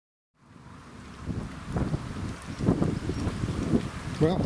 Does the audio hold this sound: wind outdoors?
yes